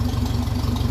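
A 1957 Ferguson 35 TVO tractor engine idling through its exhaust after an exhaust leak was fixed, a brief steady low throb with an even pulsing beat, close and alone.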